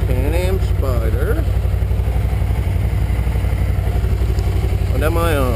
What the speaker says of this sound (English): I am on a Can Am Spyder.